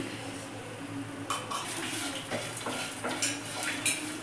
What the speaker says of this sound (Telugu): ఇవన్నీ ఫ్రై అయ్యిందాక వేయించుకోవాలి